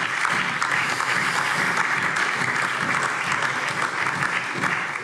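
Sustained applause from an audience in the European Parliament plenary chamber, dense and steady throughout without pause, a broad wash of many hands clapping together.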